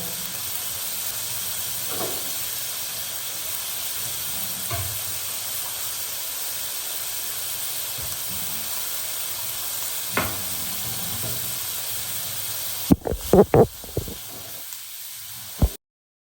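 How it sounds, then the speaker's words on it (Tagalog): Pork belly fries in a pan with a steady, even sizzle and hiss that runs for a long stretch, then a few sharp clatters and spatters near the end before it cuts off. "So, hayaan mo muna maluto ang pork."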